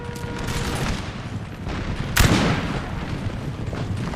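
Musket volleys in the strategy game Napoleon: Total War: a continuous rolling crackle of massed distant fire with one louder, booming shot standing out midway.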